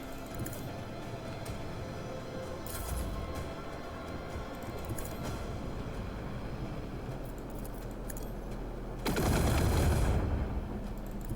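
Gunfire in the game Warhammer 40K Rogue Trader, rapid machine-gun-like bursts rattling steadily in the background, with a louder, heavier volley near the end.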